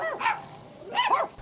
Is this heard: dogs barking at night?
yes